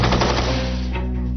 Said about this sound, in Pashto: دا بې شرف د کوم ځای ډزې کوي؟